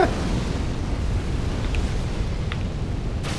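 Fire roaring and crackling in Dark Souls 3, a steady low rumbling burn that holds at an even level throughout, with a few faint high crackles scattered over it and no talk.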